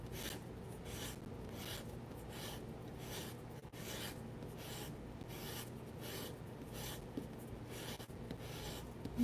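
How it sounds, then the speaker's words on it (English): A paper blending stick is rolled and rubbed against sandpaper in a quiet painting session, making a rhythmic series of close, soft rasping strokes, each about half a second long, with no voices. "Rolling it onto the sandpaper."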